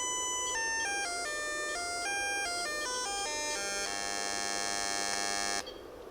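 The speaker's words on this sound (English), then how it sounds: "That sound you hear is actually coming from the laser hitting the wood." A PWM-modulated, high-power handheld laser hits wood and gives off a loud electronic buzz that steps through a series of pitches like a short tune, then holds one long tone before cutting off.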